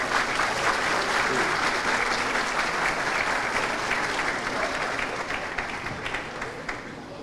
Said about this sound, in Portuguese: Feita a foto oficial com aplausos de todos no auditório.